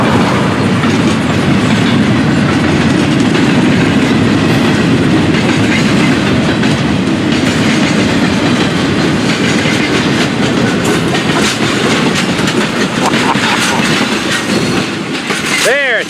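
A train rumbles past close by, wheels clattering steadily on the rails, with a brief high squeal near the end.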